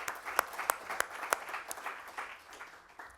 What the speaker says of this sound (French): Je vous invite à l'applaudir